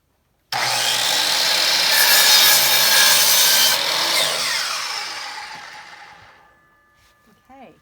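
A power saw cuts through wooden twigs into slices for log ornaments, a loud close buzzing whine that starts abruptly, holds for several seconds, then spins down and fades.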